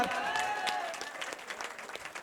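Audience applause at a Chhattisgarhi Aathe festival stage show in Patan, a steady wash of clapping held through the whole stretch at moderate level, thinning slightly toward the end.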